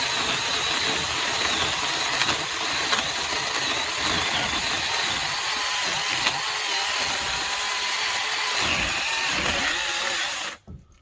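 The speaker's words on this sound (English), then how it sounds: "I'm worried about Wild Boy with a chainsaw here." A chainsaw cuts deck framing lumber in a steady, loud, near snarl that runs unbroken for about ten seconds, then drops off abruptly at the end.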